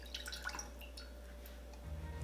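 Water drips and trickles into a saucepan over low heat while kimchi paste is being made, a faint, quiet patter of small splashes that ends with a low rumble.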